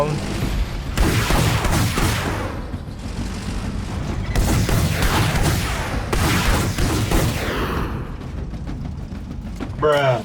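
Rocket fire from a Sherman tank in Battlefield V comes as a series of booming launches and blasts, dense and repeated, with mechanical rattling between bursts and someone talking over the action.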